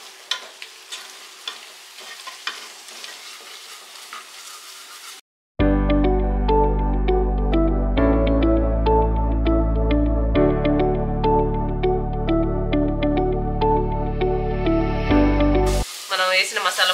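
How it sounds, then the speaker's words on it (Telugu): Masala powders including cumin, coriander and garam masala are stirred into sizzling gravy in a pan for channa curry, with scraping strokes over steady frying hiss, close up; a quieter stretch precedes a loud burst of continuous sizzle. "మనం వేసిన మసాలా పొడులని బాగా మిక్స్ చేసుకున్నాం కదా"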